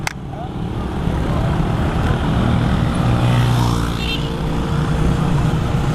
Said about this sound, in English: it seems to be like a bike rally